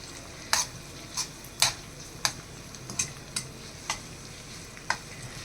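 Prawns sizzle steadily in a cast iron pan while a utensil scrapes and clicks against it in about eight distinct strokes spaced roughly half a second to a second apart, close and fairly loud.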